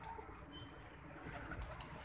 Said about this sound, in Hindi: ये भी कबूतर मस्ती कर रहे हैं